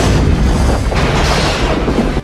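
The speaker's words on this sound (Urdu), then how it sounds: "اور پھر ایک دھماکہ۔" A loud, sustained explosion boom rumbles with dense low-end energy for about two seconds, then cuts off abruptly, standing alone without any voices.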